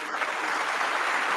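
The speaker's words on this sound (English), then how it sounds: "Everyone in the meditation hall is watching and I think you can hear the claps" A room of people in a meditation hall claps steadily, a dense even patter of many hands sustained throughout, fairly loud and with no talking over it.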